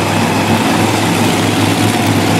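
A monster truck engine of about 2,200 horsepower runs steadily at a motorsport event in Little Valley, New York, a loud, continuous deep rumble without a break.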